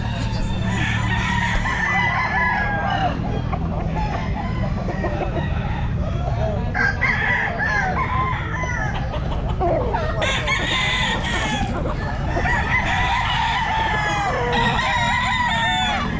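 A young gamecock stag crows repeatedly at a busy pet market, its loud calls rising over steady clucking from other fowl and a constant crowd hubbub.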